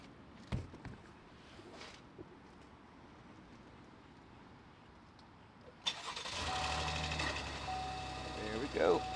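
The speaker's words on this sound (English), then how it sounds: "I'm gonna see if she cranks up" A Cadillac XT4 cranks and fires up after a long quiet stretch, then settles into a steady, close idle that runs to the end.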